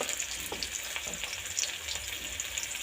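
Onion with salt and turmeric fries in a pan, giving a steady moderate sizzle with soft scraping stirs and light taps throughout.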